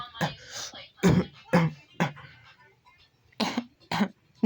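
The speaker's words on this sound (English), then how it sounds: "So bad is a cough." A series of about six short, harsh coughs and throat-clearing bursts, spaced irregularly and heard close by in a quiet room.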